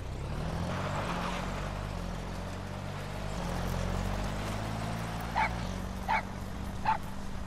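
A puppy in the Metal Gear Solid V: The Phantom Pain video game whimpers and yips over a steady low game hum, with three short, sharp barks near the end.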